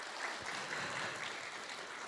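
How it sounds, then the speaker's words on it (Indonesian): Audience applause at an Indonesian religious talk gathering, a brief steady wash of clapping from a crowd, moderately distant and even throughout. "kita berikan tepuk tangan sekali lagi"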